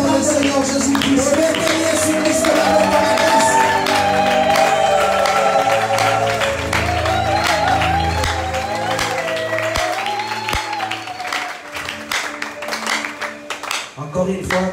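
A church congregation applauds and cheers in a long, dense wash of clapping and voices, with sustained sung or shouted tones running through it; the sound stays full and loud before thinning toward the end.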